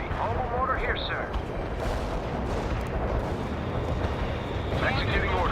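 Artillery fire in the World in Conflict video game, dense rumbling booms and blasts rolling continuously across a few seconds, with a couple of sharper shell whistles or impacts near the start and end.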